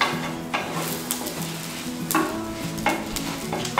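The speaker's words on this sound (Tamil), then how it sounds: "இது எல்லாத்தையுமே நல்லா கொஞ்சம் வாசனை வர வரைக்கும் வறுத்து எடுத்துக்கலாம்" Spices dry-roasting in a pan for mutton gravy, with repeated scraping stirs of a spoon against the pan over a faint sizzle, close by, with no talking.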